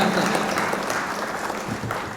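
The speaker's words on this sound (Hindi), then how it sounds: "तालियां बजाइए, तालियां बजाइए" An audience at a mushaira, a poetry recital in Saharanpur, breaks into steady clapping that starts at full strength and fades slightly over its brief length.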